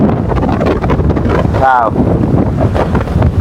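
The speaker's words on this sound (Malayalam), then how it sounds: "നല്ല കാറ്റാണ് ഗൈസ് നിങ്ങൾ സൗണ്ട് കിട്ടില്ല നല്ല കാറ്റാണ്" Strong wind roars continuously against the microphone at Rosemala, a forested hill area in Kollam, a loud rumbling buffet that never lets up, with a brief voice partly heard through it.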